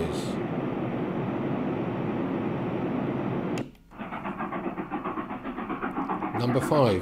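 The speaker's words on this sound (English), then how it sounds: "Number 5, night train." Steady low rumble and rattle of a night train sound from a Sound Oasis S-6000 sound machine, continuous and fairly loud, then a brief drop before a rhythmic clacking train sound resumes.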